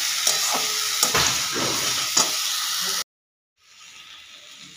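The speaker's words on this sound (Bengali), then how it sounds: "5-6 মিনিট মতো লাউ শাকটা ভেজে নেব। দেখুন এরকম করে ভেজে নেব ভালো করে।" Bottle gourd greens (lau shak) fry and sizzle in a pan with bursts of stirring scrapes for about three seconds, then a brief silence before a quieter sizzle returns.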